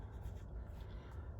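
A Lamy fountain pen scratching softly across paper, a faint continuous close-up writing sound with small stroke-by-stroke variations.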